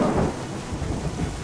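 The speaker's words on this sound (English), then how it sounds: "This rain. Yeah, it really makes it hard to see." Steady heavy rain and a low rolling thunder rumble from the sci-fi shooter game Orion: Prelude, a dense continuous wash with no voices.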